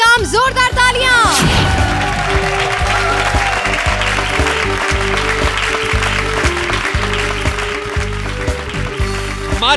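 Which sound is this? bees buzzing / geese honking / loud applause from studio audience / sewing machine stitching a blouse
loud applause from studio audience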